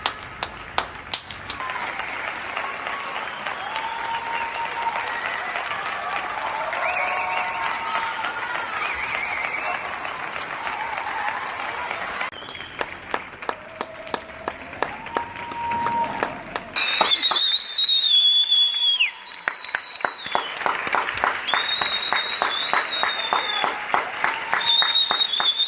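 Sustained applause from many people at their windows, distant and echoing across buildings, with scattered sharp claps, whistles and faint cheering rising toward the end.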